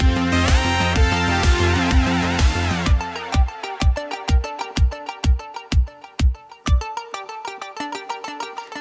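Synth music break from a cover of a song, dense layered tones at first, then thinning to a sparser pattern of sharp rhythmic percussive hits repeating about twice per second.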